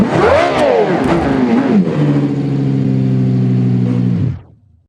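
A high-pitched F1 engine fitted to a minivan in a driving video game revs up and down sharply, then holds a steady loud drone before cutting off abruptly near the end.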